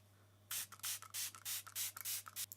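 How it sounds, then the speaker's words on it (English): A quick series of soft hissing spray bursts from a pump bottle, about a dozen short puffs in an uneven rhythm, close and quiet. "I just spray my face pretty evenly"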